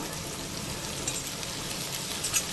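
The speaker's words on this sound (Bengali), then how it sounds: "একটা মিডিয়াম সাইজের কুচনো পেঁয়াজ ঢেলে দেব, দিয়ে এবার ভালো মতন নাড়ব" Chopped onion frying in panch phoron oil over medium flame, a soft, even sizzle with faint crackle throughout, fairly quiet and without speech.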